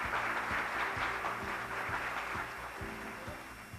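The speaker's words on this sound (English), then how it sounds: "give a big hand or a round of applause to Mr. Ramon Monzon" An audience at a beauty pageant coronation night applauds steadily in a large hall. The wash of clapping stays fairly faint, with music pulsing under it.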